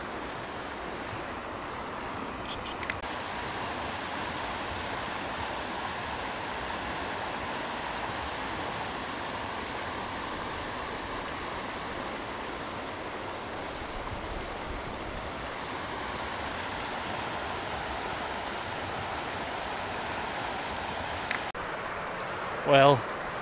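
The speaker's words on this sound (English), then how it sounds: "I hope you can hear me because the sound of the river" A river rushes along near its upper reaches, a steady broadband wash of flowing water filling the whole stretch evenly and continuously, moderately loud, with a faint brief knock near the end.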